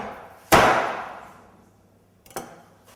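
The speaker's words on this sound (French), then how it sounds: "Positionner la volaille perpendiculairement sur la planche et d'un coup sec, trancher le cou." A poultry neck is chopped off on a cutting board with one sharp blow, a loud close thud that rings out and decays, followed by a lighter second knock.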